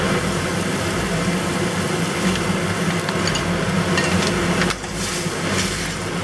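Mongolian beef sauce mixture with a splash of wine heats toward a boil in a pan, giving a steady, loud bubbling hiss that runs throughout, with a brief dip near the end.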